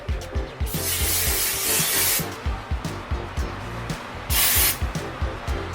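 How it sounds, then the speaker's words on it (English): Hairspray hisses in several bursts onto freshly curled hair, two longer sprays standing out over a lively rhythmic music track playing throughout. "go ahead and spray, hairspray, and you wanna let it like chill for just a second"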